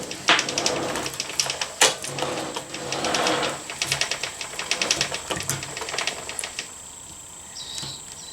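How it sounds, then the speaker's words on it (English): A new chain on a Honda CRF250L is fed around the rear sprocket, giving a quick series of light metallic clicks and rattles close by, fading out toward the end. "feed the new chain all the way through"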